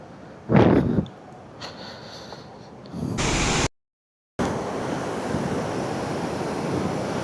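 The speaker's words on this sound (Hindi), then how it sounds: "बारिश के बाद देखें पानी की रफ़्तार और तेज़ हो गई।" Swollen river water rushes after rain in the Bashu Valley on a trek, a steady broadband roar with a louder burst near the start and a brief dropout midway, no voices.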